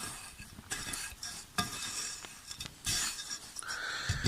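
A sugary carp groundbait mixture being stirred by hand: quiet, uneven scraping and rustling with a few sharper knocks, close up.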